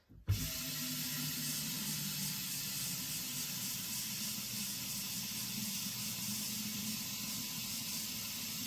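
Water running from a tap into a soup pot with beef bouillon, a steady hissing gush that starts abruptly and continues evenly at close range with no talking.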